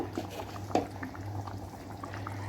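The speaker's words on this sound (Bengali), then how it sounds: "নুন করে ঝোলটা ফুট ধরে গেছে" Fish and potato curry bubbling in a pot, soft irregular blips and gurgles over a low steady hum, close and fairly quiet.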